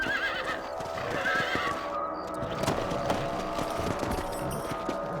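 A horse whinnies and snorts amid clip-clopping hooves and ambience in Red Dead Redemption, fairly close, with no talking.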